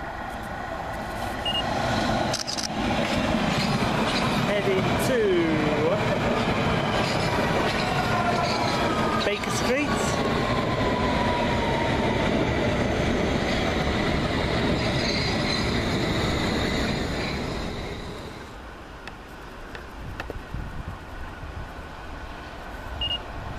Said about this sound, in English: It's now arriving, Met train.